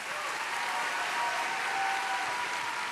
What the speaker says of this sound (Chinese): 今天我们想听到最真实的音效，就是你们的掌声